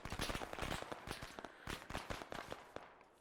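Dense rapid gunfire in a military video game firefight in Arma 3, with many sharp cracks in quick irregular bursts, some near and loud and others more distant, continuing throughout without talk.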